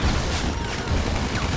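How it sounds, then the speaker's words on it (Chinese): Rapid gunfire bursts from a helicopter in the game GTA5, loud, dense and continuous with booming crashes mixed in, no voices over it. "他被直升机射死了啦"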